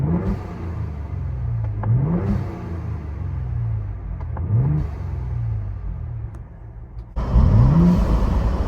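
A Ford Bronco Raptor engine with the stock intake, heard from inside with the windows up: three deep revving swells rise and fall over a steady muffled idle rumble, and the last rev is louder and brighter.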